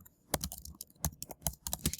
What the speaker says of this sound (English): So I'm going to type vertical stretch.